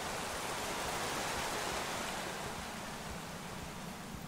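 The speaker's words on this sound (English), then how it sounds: "I first met Reuben near a waterfall like this." A waterfall in the video game Minecraft Story Mode roars as a steady broadband rush of falling water, even and continuous throughout with no voices.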